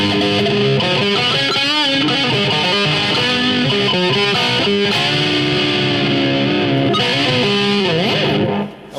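Electric guitar played through a Line 6 Amplifi FX100 on a heavily distorted acid-rock tone, a loud, continuous run of sustained, bending notes that cuts off at the end.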